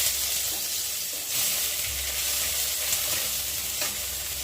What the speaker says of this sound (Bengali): কড়াতে তেল দিয়েছি, তেলগুলো গরম হয়ে গেছে, আমি একটু পেঁয়াজ দিয়ে দিচ্ছি